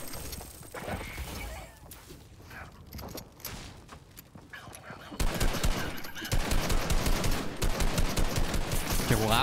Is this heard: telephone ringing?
no